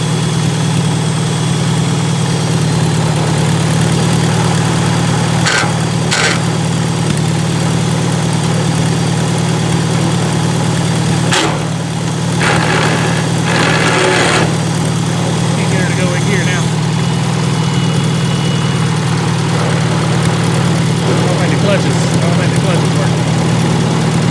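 A Farmall Super A tractor engine idles steadily throughout, a constant low drone with faint clanks and shop noises over it.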